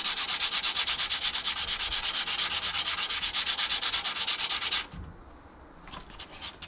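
Knife edge drawn gently back and forth over flat sandpaper, giving a loud, steady rhythmic rasp of rapid strokes for about five seconds, then stopping abruptly, followed by faint handling clicks.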